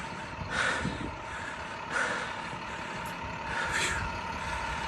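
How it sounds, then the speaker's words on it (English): A school bus rolls past outdoors with a low engine rumble and a few brief hissing surges, heard at moderate distance over steady street background. "there's a school bus"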